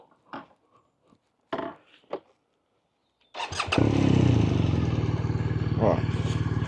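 A few short clicks and bumps, then a BMW R 1250 R motorcycle engine starts and settles into a loud, steady, throbbing idle close by.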